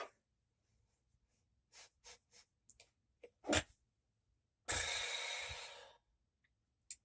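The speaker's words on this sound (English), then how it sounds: "I need to sneeze." A single sneeze bursts out sharply and close, a loud hissing blast lasting about a second, preceded by a few quiet sniffs and breaths in an otherwise silent room.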